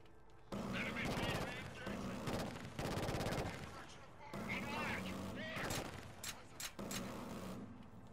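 Dense bursts of automatic gunfire and explosions in the shooter game Killzone Shadow Fall, loud and nearly continuous in rapid rattling volleys with short pauses, mixed with shouted radio chatter.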